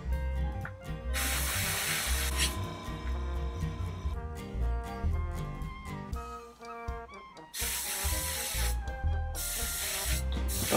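An airbrush at around 15 to 20 psi sprays paint onto a Mosquito FB Mk. VI scale model in several hissing bursts of a second or two, heard beneath steady background music.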